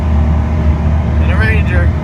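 Polaris Ranger side-by-side utility vehicle driving down a muddy mountain track, its engine a steady close rumble throughout with a person talking briefly near the end.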